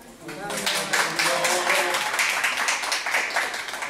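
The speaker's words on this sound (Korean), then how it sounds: "우리 식구들끼리 지금 인사하면서 박수 치는 거요" A group of Korean painting association members claps steadily and continuously at moderate volume while greeting each other at an exhibition event, with voices murmuring underneath.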